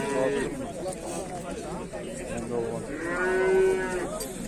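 Young bull calves mooing at a livestock market, several long, close bellows over a crowded background of people talking and chatter.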